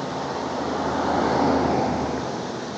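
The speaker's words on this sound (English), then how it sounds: "I never noticed a creek here, much less a cute little waterfall." A swollen creek with a small waterfall after heavy rain gives off a steady, close, loud rushing roar of water that swells slightly and holds throughout.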